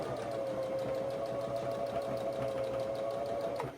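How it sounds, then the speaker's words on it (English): A sewing machine runs steadily at a slow, even pace, stitching fabric binding in the ditch, with a continuous motor hum and rapid regular needle clatter throughout, close and alone. "we're sewing right in that ditch"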